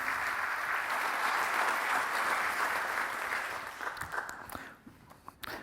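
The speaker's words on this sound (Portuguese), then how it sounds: "Uma salva de palmas" An audience claps steadily and warmly for several seconds, then the applause thins out and fades into a few scattered claps.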